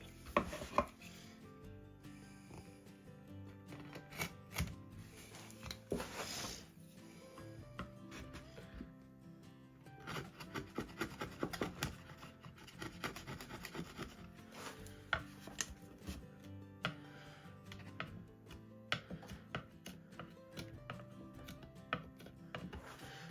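A fresh Stanley blade works wood while an acoustic guitar is built from scratch, giving repeated short scraping and cutting strokes in irregular bursts, close and quiet, with pauses between runs.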